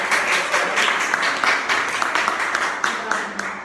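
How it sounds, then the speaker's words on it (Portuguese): An audience at a live network-marketing public speaking training gives a round of applause, steady dense clapping heard close and fairly loud throughout. "uma salva de palmas para a Elza."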